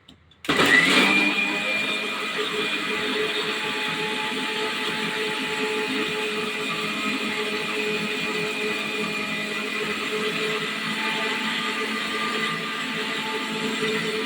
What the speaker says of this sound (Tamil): பாருங்க ஃப்ரெண்ட்ஸ், அரைக்கிறாங்க